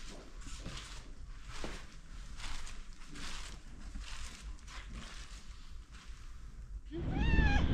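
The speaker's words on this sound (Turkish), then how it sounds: "Amasya kedisi." A street cat in Amasya meows near the end, a close, rising and falling cry after several seconds of quiet outdoor background noise.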